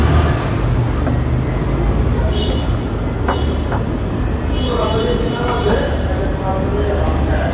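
Idling 1.5-litre, 1500 cc Toyota Rush engine, a steady low rumble heard up close with the hood open, running continuously under a voice talking over it.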